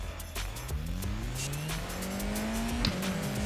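Simulated race car from the iRacing sim game revving and pulling away from a standing start, engine pitch climbing steadily through gears with a brief tire squeal, close and continuous with no talk.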